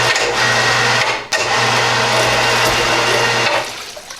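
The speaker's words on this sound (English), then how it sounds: "Rinse it off one time." Loud, close water spray rinses a freshly cleaned jib crane part, a continuous hissing jet that briefly cuts out and resumes before tapering off.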